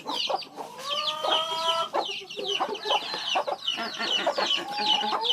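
Backyard egg-laying hens clucking and squawking busily at feeding time, a close, continuous chorus of overlapping calls with no talk.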